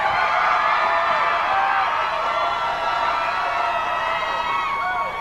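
A noisy cheering section at the 2002 Miss Oklahoma pageant shouts and whoops, a dense, loud crowd roar with high voices that never lets up across the whole stretch.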